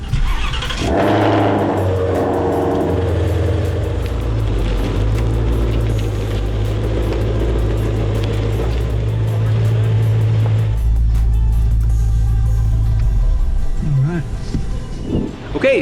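A Shelby GT350R Mustang V8 starts and revs loudly up close, holding a deep, throbbing idle between blips before cutting off near the end, with people talking faintly in the background.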